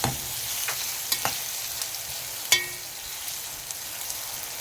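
Fried fava beans with red and green peppers sizzle steadily in a hot pan while being stirred, with a few sharp scraping and clinking taps over the continuous frying hiss and no talk.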